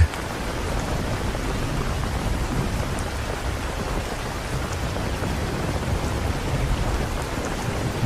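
Heavy rain falls during a typhoon in the Philippines, a dense, steady roar of downpour on surfaces that holds at constant loudness throughout, with no voices.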